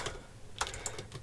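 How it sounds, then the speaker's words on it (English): Keystrokes on a failing computer keyboard, a quick irregular run of close, crisp clicks and taps over a low background hum, with no one speaking. "My keyboard is dying. It makes typing very fun."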